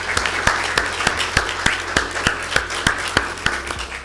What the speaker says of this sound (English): big applause for all of us today